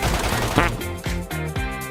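Gunfire in the Metro Royale video game: several loud, closely spaced shots crack in quick succession.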